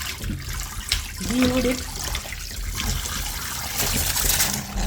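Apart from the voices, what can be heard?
water running while washing ginger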